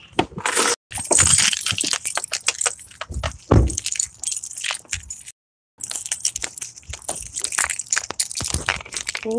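A bunch of keys jangles and rattles almost continuously, close and loud, with busy metallic clinks, handling thumps and one brief pause in the middle.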